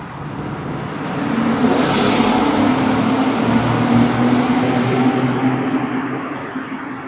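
A Toyota car accelerates hard through a downtown Los Angeles tunnel, a loud, echoing roar that swells and whooshes past close by, then fades away into a hollow tunnel rumble.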